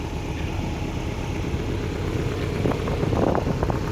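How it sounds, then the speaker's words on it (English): A Porsche Boxster engine runs steadily at a distance on an open road, a low continuous drone with a slight rise toward the end, no voices. "that Boxster sounds freaking awesome."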